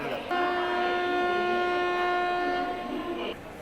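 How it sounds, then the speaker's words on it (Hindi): ICF AC special train departing from New Delhi toward Mata Vaishno Devi sounds a long, steady horn blast lasting about three seconds, loud and near, with rail rumble underneath. "बिल्कुल डॉट टाइम अपने 9:20 पर डिपार्चर हुआ अपनी ट्रेन का"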